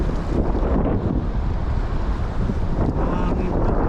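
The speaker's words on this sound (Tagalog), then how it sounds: "Kaso mahangin na." Strong seaside wind at La Union buffets the microphone in a constant loud rumble, with a possible wash of surf underneath and no clear voices.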